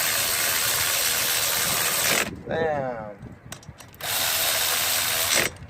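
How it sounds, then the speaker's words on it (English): Power tool driving spark plugs into a Lexus IS300 2JZ-GE engine, a loud steady mechanical whir running for a couple of seconds, pausing briefly, then resuming, with a short spoken word between bursts. "you can use your power tool"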